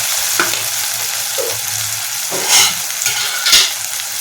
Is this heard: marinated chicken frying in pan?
yes